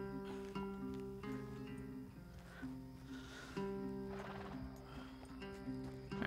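A horse in the Red Dead Redemption 2 video game, with steady clip-clop hoofbeats and a whinny over a sustained tonal game score, fairly close and loud with no talk.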